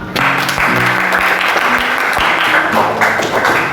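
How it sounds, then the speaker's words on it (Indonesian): A high school class of students applauds together in a classroom, a loud, dense burst of clapping that holds steadily for a few seconds with faint voices mixed in. "kita tepuk tangan buat kita semua"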